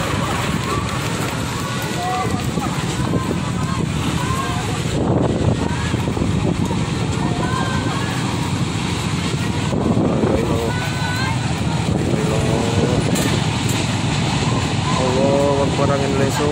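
Strong whirlwind gusts roar continuously and loudly through Klompangan, Jenggawah, Jember, buffeting the microphone, with excited voices shouting and talking throughout.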